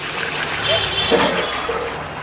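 Water from a jug poured into a pan to make sugar syrup for rasmalai, a steady broadband splashing gush lasting a couple of seconds, close and fairly loud.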